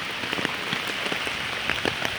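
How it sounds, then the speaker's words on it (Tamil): Light rain falls steadily outdoors in the mountains, a close, even patter of drops on surfaces with scattered brighter taps, no voices. "இப்படி எவ்வளோ மழை பெய்ஞ்சு லைட்டாக தூரிச்சுடா."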